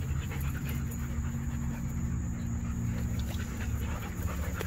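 A Doberman Pinscher pants steadily and close, with quick rhythmic breaths over a low, constant background hum and no talking.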